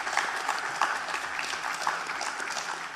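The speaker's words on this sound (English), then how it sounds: "please give a round of applause for all of the candidates" An audience at a 2019 school board candidate forum claps for the candidates in steady, dense applause that holds for the full few seconds, with no voices rising above it.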